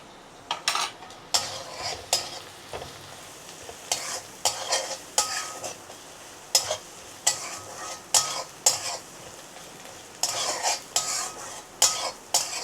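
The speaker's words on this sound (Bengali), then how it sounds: "এখন আমি কিছুক্ষণ ভেজে নেব।" Turmeric and spices for a fish curry fry in a pan under a low sizzle, while a spoon scrapes and knocks against the metal in a quick run of repeated stirring strokes, close and clear.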